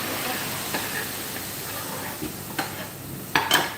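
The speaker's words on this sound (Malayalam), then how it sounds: "ഞാൻ സാമ്പാറിലേക്ക് ഒഴിക്കുകയാണ് കേട്ടോ." Hot mustard seed tempering poured into a pot of sambar gives a steady sizzling hiss with a few sharper crackling bursts near the end, close and moderately loud.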